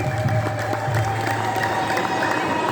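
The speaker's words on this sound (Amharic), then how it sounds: "እስቲ አጨብጭቡ አንድ ጊዜ።" A gathered audience at a celebration claps steadily in a dense wash of applause with some crowd noise and a faint cheer beneath it.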